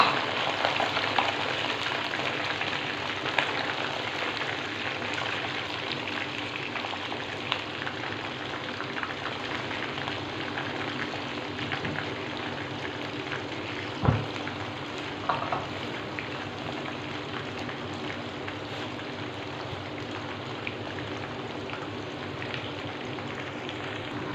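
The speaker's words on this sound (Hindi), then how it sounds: "हम दोबारा फिर इस मीडियम हीट ऑयल में दोबारा वापस अपना सारा चिकन शामिल करेंगे और इसे लाइट गोल्डन ब्राउन होने तक फ्राई करेंगे।" Chicken pieces fry in medium-hot oil, a dense, continuous crackling sizzle that holds steady throughout, with one brief knock partway through.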